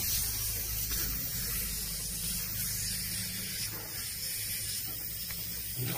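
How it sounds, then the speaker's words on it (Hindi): Refrigerant gas hissing out of the compressor system of a double-door fridge as the compressor is being replaced, a steady broad spray that runs without a break under a low mechanical hum. "तो चलिए देखेंगे कैसे गैस को निकालते हैं।"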